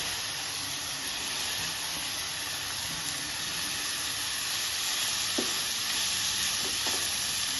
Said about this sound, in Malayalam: ഇതിലേക്ക് തന്നെ ഇതാ ഞാൻ ഉള്ളി ഇവിടെ മുറിച്ചുകൊണ്ട് ചെറുതായിട്ട് ഇത് കൊടുത്തു കൊടുക്കാം